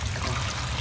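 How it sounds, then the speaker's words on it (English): Steady broadband rain-like patter with a low rumble underneath, continuous and fairly soft, heard alone. "It's rain."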